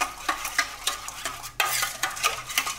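An egg, sugar and milk mixture is beaten in a bowl for bread toast, with rhythmic clinking strokes of a utensil against the bowl repeating about every half second, close and clear, and no voices.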